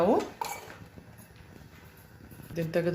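Metal clanks of a steel pressure cooker lid being locked into place and lifted off in a home kitchen, a few sharp clinks at the start and end with quieter handling between.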